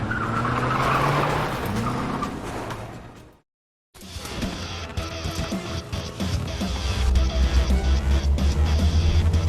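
Car chase in a Korean action film, with engines roaring and tires squealing and skidding, then a brief silence before more loud engine revving, whooshes and skids.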